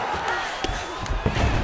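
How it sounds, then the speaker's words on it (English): A crowd roars and cheers at a UFC 5 video game women's bout between Zhang Weili and Virna Jandiroba, swelling after a long ground battle, a dense loud arena noise under an announcer's voice. "you heard the crowd pop after that grueling ground battle"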